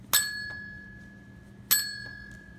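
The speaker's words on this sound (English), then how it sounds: "Oh, it's the bell." A bell rings twice, about one and a half seconds apart. Each strike is a loud, clear metallic ding that rings out and decays slowly, with no one speaking.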